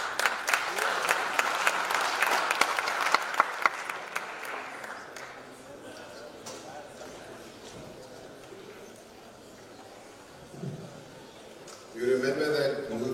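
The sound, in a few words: audience applause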